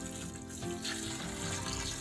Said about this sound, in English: We're gonna pour the water a little bit around the outside, not directly on.